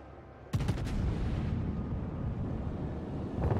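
The German battleship König Albert fires its main guns in World of Warships, one loud deep booming salvo followed by a long rumbling roar, with a fainter second blast near the end.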